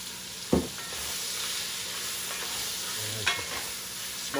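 Mushrooms and cabbage stir-fried in oil in a smoking hot cast iron pan, a soft steady sizzle with two sharper scraping stirs, quiet and close, no talk.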